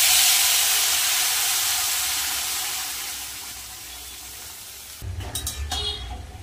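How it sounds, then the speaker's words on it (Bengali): Water is poured over ghee-fried rice for pulao, a strong steaming hiss that fades slowly over several seconds before a burst of stirring clatter and bubbling ends it, with no voices. "এবার আমি যে বাটির 1 বাটি চাল নিয়েছি সেই বাটির 2 বাটি জল দিয়ে দেবো।"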